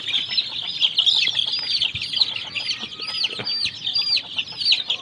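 Home-raised chicks about ten to fifteen days old cheep constantly in high, bright peeps, a busy overlapping chorus close by with occasional soft scuffling.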